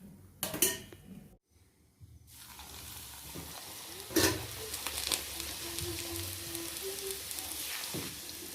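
A thickly rolled puri frying in hot oil for a festival meal, a steady close sizzle and bubbling with a few sharp clatters of utensils and a brief quiet gap, no talking.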